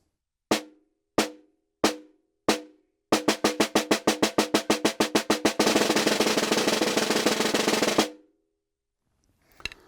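Snare drum with sticks, led off by the weak hand: four spaced single strokes, a run of accelerating strokes, then a dense, even buzz roll that stops abruptly, followed by a faint brief rustle.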